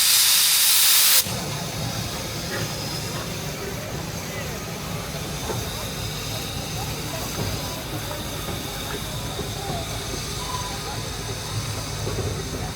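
Steam locomotive number 3 on the Don River Railway in Tasmania hisses steadily as it runs around its train, a broad continuous roar of escaping steam with low mechanical rumble beneath and a voice talking over it.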